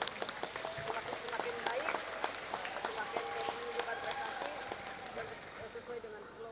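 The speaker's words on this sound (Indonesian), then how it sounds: "Tepuk tangan untuk semua" An audience at a Kushin Ryu karate association inauguration in Indonesia applauds, a soft, continuous patter of many hands heard from some distance, with a voice carrying over it.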